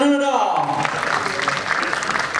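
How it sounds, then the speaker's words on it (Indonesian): A burst of crowd applause, steady and fairly loud, with a trailing voice at the very start fading into sustained clapping. "tepuk tangan dulu dong"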